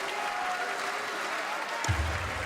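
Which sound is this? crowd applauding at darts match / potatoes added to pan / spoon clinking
crowd applauding at darts match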